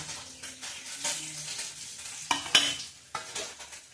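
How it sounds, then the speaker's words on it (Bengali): Squash and pointed gourd frying in a pan, a soft continuous sizzle broken by a few sharp utensil clinks and scrapes near the end. "আর এখানে তোমার কোয়াশ ভাজছি আর পটল ভাজছি দেখো"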